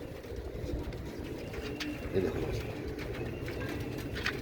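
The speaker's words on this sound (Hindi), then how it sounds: "ये दोस्तों ये उनके घर के कबूतर हैं" Domestic Teddy breed pigeons from a breeder pair, a male and a female, cooing softly in a steady low murmur beneath a voice talking close by.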